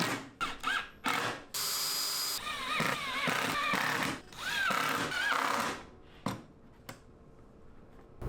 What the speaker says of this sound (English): As I attach these hinges, I'm using a self-centering bit